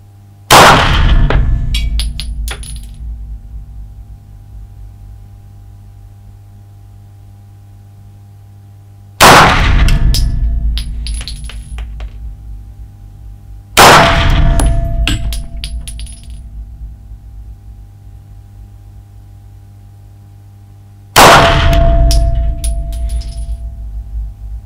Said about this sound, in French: je vais essayer de faire un tir rapide sur gong